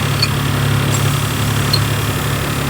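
A truck's diesel engine idles steadily in the cab during a CDL air brake and in-cab inspection, a loud, even low rumble with a constant buzzing hum and a few faint clicks.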